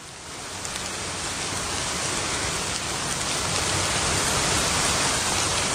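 Rain falls on the bluestone-slab street of Wangyu old town, lined with connected eaves, a dense, steady hiss that swells slightly louder toward the end, with no voices.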